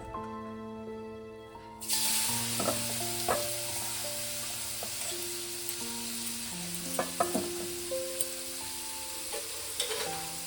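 Papaya pieces fry in hot oil in a wok, starting quietly before a loud steady sizzle bursts in and continues, broken by occasional clinks and scrapes of stirring.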